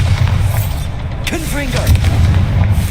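A Bombarda explosive spell from Hogwarts Legacy lands as a heavy, rumbling blast with low booming energy under the game's constant din, while a brief voiced cry cuts through the middle.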